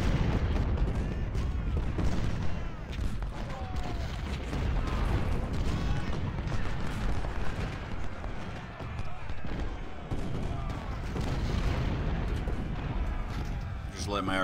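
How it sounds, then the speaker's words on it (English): Artillery fire from the Ultimate General: Civil War video game booms in dense, overlapping volleys under a continuous rumble of battle, loud and sustained, with a voice speaking over it. "Just let my artillery do their job for a little while."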